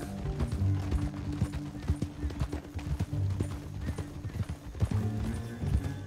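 Steady clip-clop of horse hooves at a trot in Red Dead Redemption 2, fairly close, with a low rumbling backdrop and occasional clanks.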